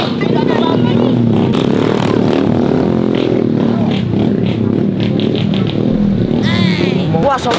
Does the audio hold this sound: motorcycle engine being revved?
yes